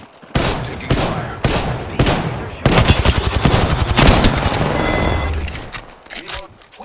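Rapid automatic gunfire in the battle royale video game Apex Legends, with loud bursts and sustained volleys that come in repeated bursts, under a speaking voice.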